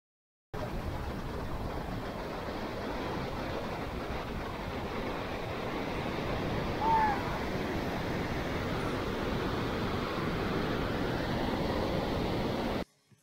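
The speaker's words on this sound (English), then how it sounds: "the water just crashes down right on us and it flows" Water of Niagara's American Falls pounding down at its base, a steady dense roar close by and loud, continuous from start to end with faint wind buffeting, no talking.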